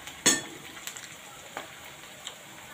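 Spices fry in a pan with a soft, continuous sizzle, broken by a sharp metallic clink and several lighter taps of a utensil against the pan.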